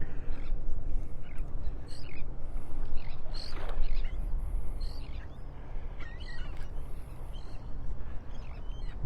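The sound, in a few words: birds on the far shore at a beach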